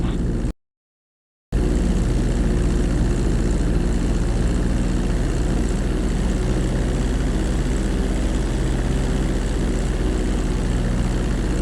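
A Grand Theft Auto 5 airplane's engines drone loudly and steadily during landing, a low propeller hum that cuts out for about a second and then resumes unchanged.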